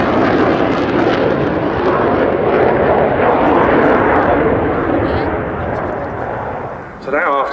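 A Polish Su-22 Fitter jet makes a low-level show-of-force flypast at about 480 knots and 500 feet at an airshow. A loud, rushing jet roar sustains throughout, eases slightly toward the end, then a sharp final burst follows.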